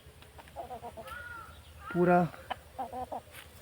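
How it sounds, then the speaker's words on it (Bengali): Poultry chickens cluck in short bursts nearby, a louder squawk rising in the middle, while a person calls to them over a low background hum. "পোল্ট্রি মুরগি পোল্ট্রি মুরগি আয় আয় আয় আয়"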